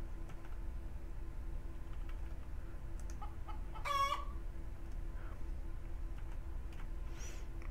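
Chickens in the farming video game Mendels Farm give soft scattered clucks and one short crowing call midway, all faint over a quiet, steady game background.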